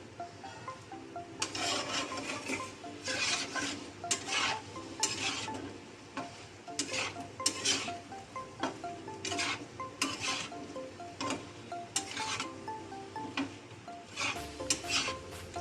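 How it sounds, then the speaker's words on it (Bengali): Vegetables, okra among them, being stirred in a pan for oil-free char masala bhindi, with steady scraping and rubbing strokes in a repeated rhythm, close and fairly quiet, with no talk. "তো এটা নাড়িয়ে নিচ্ছে।"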